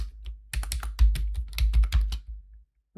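Quick typing on a computer keyboard, a dense burst of close, crisp key clicks and thumps lasting about two seconds before stopping into silence.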